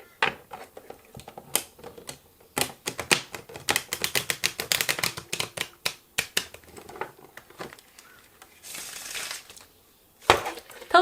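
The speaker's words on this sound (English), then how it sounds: "now shuffling the cards" A deck of playing cards being shuffled by hand for a trick-taking game, a quick burst of dense riffling snaps followed by scattered clicks and a final sharp flutter, close and fairly loud with no talk.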